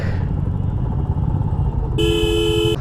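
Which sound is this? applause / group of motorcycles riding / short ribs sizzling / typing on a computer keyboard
group of motorcycles riding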